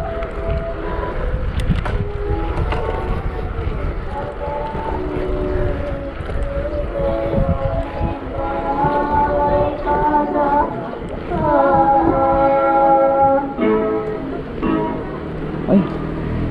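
Strong wind rumbles and buffets the microphone at noon in a rural Ilocano province during Holy Week, with a steady droning hum running through it and a faint voice near the end.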